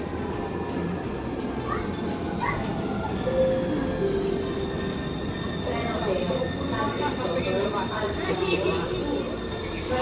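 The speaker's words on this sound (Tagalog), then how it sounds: "Sakay na ulit kami ng tren din eh." A metro train ride rumbles steadily from inside the car, with rolling wheel noise, faint squeals and tonal whines throughout, while people talk quietly over it.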